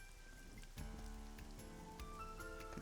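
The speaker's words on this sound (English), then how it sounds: "A parasol is getting pelted by the rain." Steady rain pelts a parasol in the video game AI: The Somnium Files, a dense continuous patter with a faint electronic tone bed, brighter drop hits scattered throughout.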